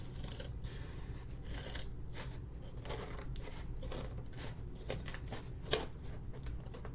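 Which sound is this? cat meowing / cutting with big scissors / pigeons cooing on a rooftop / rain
cutting with big scissors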